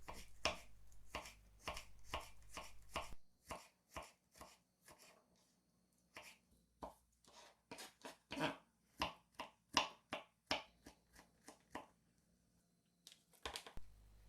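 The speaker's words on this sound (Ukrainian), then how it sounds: "Дрібненько нарізаємо і чесничок" Garlic and young onion are finely chopped with a knife on a board: sharp, close taps in quick irregular bursts, some rapid runs of strokes, with quiet pauses between.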